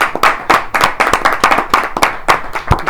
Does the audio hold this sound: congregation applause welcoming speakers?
yes